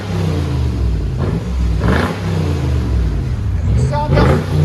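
Revving from a Lexus GX470 or a GMC Yukon 5.3L V8 with the muffler cut off, loud and close, with several throttle blips swelling and falling over a steady rumble and voices talking over it.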